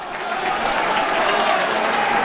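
Crowd at a National League South football match between Dulwich Hamlet and Oxford City cheering and applauding steadily, a dense continuous roar of clapping and voices throughout.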